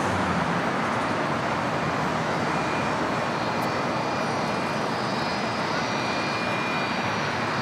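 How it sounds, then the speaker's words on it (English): A United Boeing 757-300, about twenty years old, arrives at LAX from Houston, its engines making a steady broad roar that holds at an even level throughout without letting up. "This flight coming in from Houston. It's a United 757-300, flight 2361."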